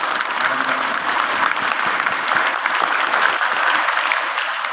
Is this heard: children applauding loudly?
yes